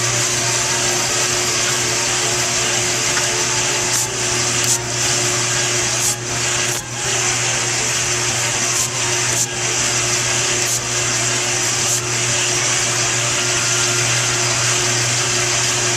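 Cretors CMD 100 industrial caramelizer mixing caramel popcorn: a loud, continuous motor hum with rubbing, scraping churn, plus occasional brief knocks from the kettle, running steadily with no talk.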